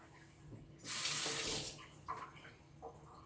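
Water pouring and splashing as it drains off washed oxtail in a kitchen, a brief loud rush lasting under a second, followed by faint drips and trickles.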